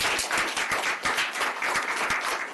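Several people at a township council meeting clap in a fairly sparse, rhythmic burst for a couple of seconds, with distinct individual claps close by.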